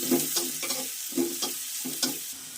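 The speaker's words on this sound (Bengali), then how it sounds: "হালকা ভাজা করে নেব পেঁয়াজ কুচি রসুন কুচি" Chopped onion, garlic and green chili frying in a pan while being lightly stirred, a soft sizzle punctuated by four or five rhythmic scraping strokes, close and alone.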